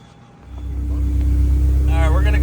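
A Honda K-series engine, a K20A or K24A swap, revs on a dyno pull. A loud, close roar climbs quickly and holds at high load, and a voice is briefly heard over it.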